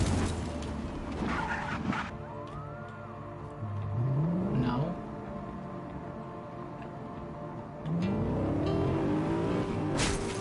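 A BMW-like car driven in Just Cause 3, its engine climbing in pitch through two surging revs with skidding tire noise, fairly close and steady throughout.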